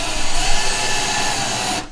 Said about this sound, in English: drilling the holes, and that's for these studs to go through